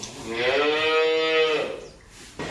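A cow in a home cowshed gives one long, loud, close moo that swells and then fades, followed by quiet barn ambience.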